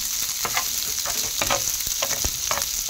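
Spring onions and tofu being stir-fried, a continuous close sizzle broken by repeated sharp scrapes and knocks of a utensil against the pan, no talking.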